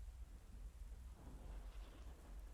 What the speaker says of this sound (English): you grab the handles, and you hear that distant roll of thunder